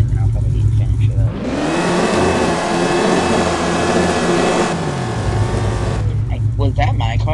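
A Camaro drag car in the No Limit Drag Racing 2.0 mobile game revs hard, a loud, steady engine roar building and holding for several seconds before cutting off, with quieter game sounds before and after.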